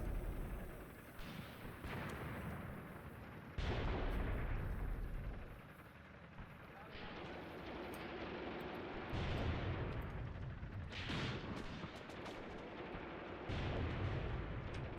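Repeated artillery fire in the wartime strategy game Graviteam Tactics: heavy booming blasts arrive every few seconds over a continuous low rumble, each one loud and reverberant, with no voices.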